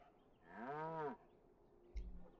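A cow in the video game Dragon Age: The Veilguard lets out a single drawn-out moo, loud and close, lasting about half a second. A brief low thump follows, with no talking.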